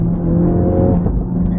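A 2017 Ford Focus RS engine revs in track mode, a loud, close, sustained throaty drone that holds steady through the short burst.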